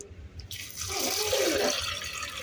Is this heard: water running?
yes